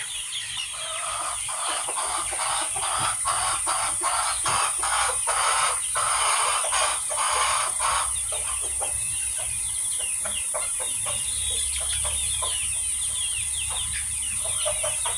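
A flock of chickens suffering from an eye-swelling illness clucks and calls continuously. Overlapping sharp clucks repeat close by over a constant background hum, and no one speaks.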